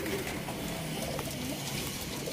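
Trah Plosur racing pigeons coo softly against a dense, steady background hiss, with a couple of brief low calls.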